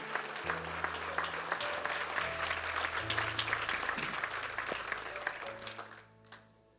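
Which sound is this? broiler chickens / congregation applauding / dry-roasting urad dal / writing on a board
congregation applauding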